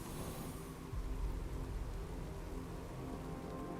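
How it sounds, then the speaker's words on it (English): Steady rain falls in the video game Batman Arkham Knight, a dense hissing wash of downpour with low rumbling underneath, continuous and fairly quiet, with no voices. "What's with all the rain?"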